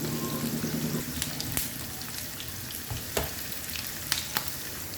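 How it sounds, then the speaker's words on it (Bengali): Carrot, onion and garlic frying in a pan with steady close sizzling and crackle, occasional stirring clatter and small knocks, no talking. "পেঁয়াজ আর রসুনগুলো ভেজে নিব।"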